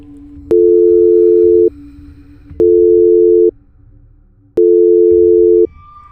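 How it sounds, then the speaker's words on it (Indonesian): A mobile phone rings with an incoming call: three long, steady electronic ring tones with even gaps between them, loud and close over a low background hum. "terdengar beberapa kali panggilan masuk di HP Bu Dewi"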